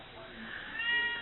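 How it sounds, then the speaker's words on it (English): A pet cat meows once, close by and moderately loud, with a rising, drawn-out call in a quiet room where papercraft is being worked on. "And there's my kitty cat saying hello."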